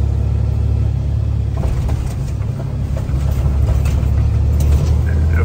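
An electric Amazon delivery van drives through traffic, heard from inside as a loud, steady road rumble and hum with passing-vehicle swells and no pauses.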